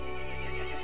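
Horse neighing in the video game Resident Evil Village, a single loud whinny heard alone and close, with faint clip-clop of hooves under it.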